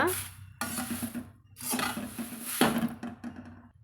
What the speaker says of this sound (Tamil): பொன்னிறமாக வறுத்துக்கலாங்க நம்மளுக்கு சீக்கிரமாக அது வறுவட்டுருங்க